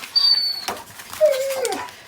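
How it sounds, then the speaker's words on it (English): A dog whines for attention indoors, giving a high thin whimper, a short break, then a longer falling whine, all close by. "my dog needs my attention"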